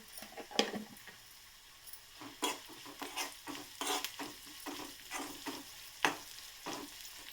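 Ingredients with turmeric and ginger garlic paste fry in a pan, a soft continuous sizzle punctuated by repeated scraping strokes of stirring, close by and moderately loud.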